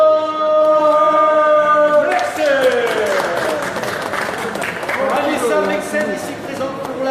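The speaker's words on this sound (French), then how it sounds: "Je vous demande s'il vous plaît un maximum d'applaudissements" After a sustained announcer's voice and a brief pause, a crowd at a kickboxing event bursts into loud, sustained clapping and cheering for a fighter, which swells and then gradually tapers off.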